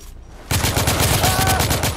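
Gunfire in the video game The Order: 1886, a sudden loud burst of rapid automatic shots starting after a brief quiet moment and continuing densely with sharp repeated cracks.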